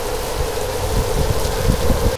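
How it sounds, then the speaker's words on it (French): Heavy rain in Kuala Lumpur pours steadily outside, a dense continuous hiss with no pauses, fairly loud and close. "Regardez-moi cette pluie."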